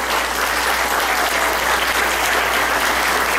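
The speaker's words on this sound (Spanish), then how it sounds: "aplauso muy fuerte para esos pequeñitos." Loud, dense applause from an audience at a kindergarten Catrina costume parade, cheering on small children, continuous and steady throughout with no break.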